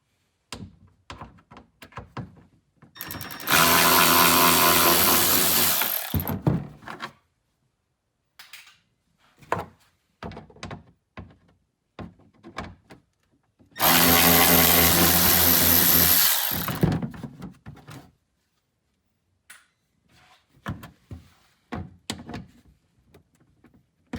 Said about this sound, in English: we're gonna take out the remaining little bolts